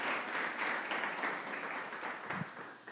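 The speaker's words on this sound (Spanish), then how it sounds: "Denle un aplauso al Señor en esta mañana." A church congregation applauding during a year-end service, a soft, steady wash of clapping at moderate distance that stays even throughout.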